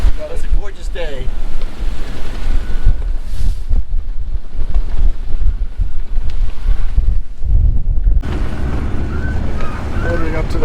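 A sailboat motors toward the entrance of North Gorda Sound in the British Virgin Islands on a windy day. Steady engine and water noise runs throughout, with heavy wind buffeting on the microphone and brief talk near the start.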